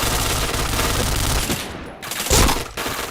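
Rapid gunfire in the shooter game Point Blank, loud dense bursts of automatic fire filling the clip with a brief dip near the middle before another sharp burst.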